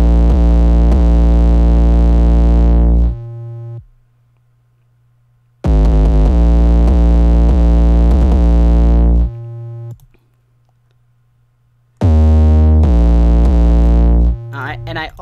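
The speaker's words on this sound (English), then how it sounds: "So let's listen to that bass." A loud, deep synth bass built with free VST plugins, EQ, a limiter and sidechain compression plays three sustained, buzzy phrases separated by short gaps, close and dominant.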